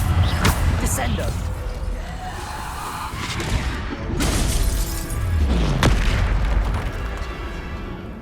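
Spell effects from Hogwarts Legacy during a fight with trolls: heavy booms, slams and crashing impacts in bursts, with sweeping whooshes and shattering debris, loud and close throughout.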